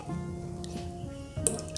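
Coconut milk pours from a small 200 ml bottle into a pan of sugar and water for creamy coconut ice pops, a close liquid trickle with dripping and a brief splashy glug near the end, no speech.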